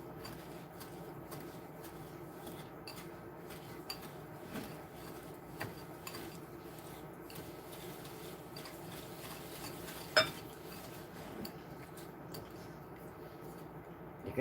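A whisk working sugar into butter in a bowl, faint steady ticking and light scraping taps with an occasional sharper clink against the bowl, quiet and continuous with no talk.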